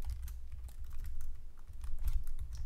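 Code being typed on a computer keyboard, a fast, close run of soft key clicks with a muffled low thump beneath, steady and continuous with no talking.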